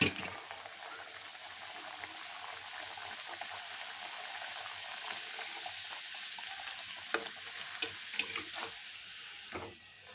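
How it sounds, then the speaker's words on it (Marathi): Puris fry one at a time in hot oil in a wok, giving a steady, fairly faint sizzle with occasional small pops and crackles. "आता आपण असं कढईत तेल तापून घेतलेलं आहे आणि आपण हे एक एक पुरी सोडून तळून घेणार आहोत."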